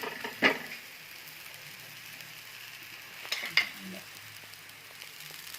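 Tender corn thalipeeth frying in a pan just after being flipped, a low constant sizzle broken by two sharp clinks and scrapes of a spatula against the pan, near and fairly quiet.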